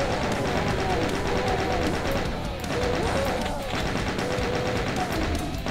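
Rapid, sustained gunfire in the classic first-person shooter Doom on a secret level, with continuous overlapping shots at a loud, even level and faint tonal game sounds beneath.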